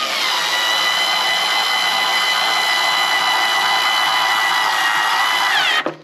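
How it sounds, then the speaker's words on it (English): A small electric screwdriver drives a screw into a bee shipping container, giving one steady, close motor whine that runs for nearly six seconds and then cuts off. "we just use this, just a little electric screwdriver"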